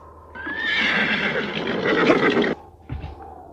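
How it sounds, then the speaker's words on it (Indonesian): A horse whinnies loudly and up close, one long shrill neigh lasting about two seconds, followed after a short pause by a brief snort or hoof sound. "Setelah menampatkan kuda itu di sebuah pohon besar"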